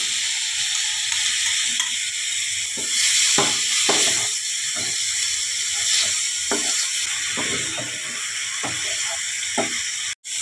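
Chicken mince frying in a hot pan with garam masala and Kashmiri chili powder gives a loud, continuous sizzling hiss, broken by several short scraping stirs and a sharp knock near the end.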